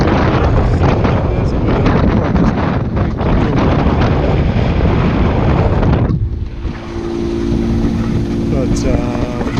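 Wind buffets loudly across a sailboat motoring under two reefs into a headwind, a steady roaring rush for about six seconds, then easing to a lower hum with a steady engine drone beneath.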